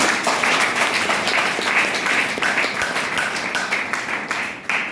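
An audience at an indoor business-plan presentation claps in a dense, steady round of applause that lasts several seconds, fairly loud and close, with no speech over it.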